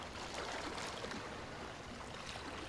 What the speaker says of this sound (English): We can hear some waves lapping nicely.